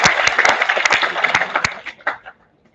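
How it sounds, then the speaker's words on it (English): Short burst of audience applause at an international conference, a modest number of distinct claps that thin out and stop after about two seconds. "Let's have a huge round of applause for Miss Jodie Cohen"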